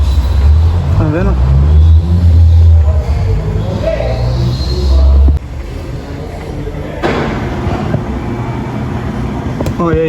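A Peugeot 1.2 engine idles roughly with a misfire on cylinder three, a loud close uneven rumble with a wavering beat, while someone talks over it partway through.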